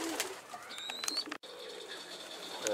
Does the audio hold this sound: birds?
yes